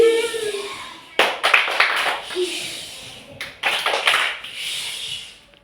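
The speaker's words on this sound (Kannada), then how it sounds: "ದುಂಬಿ ಚಪ್ಪಾಳೆ" A classroom 'bee clap' pattern: bursts of hand claps and taps in a rhythmic group, fairly close, with voices and chatter around the clapping.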